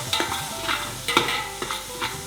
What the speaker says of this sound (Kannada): ಈರುಳ್ಳಿ ಈ ಸಮಯದಲ್ಲಿ ಹಾಕ್ಕೊಳ್ಳಿ ಒಗ್ಗರಣೆಗೆ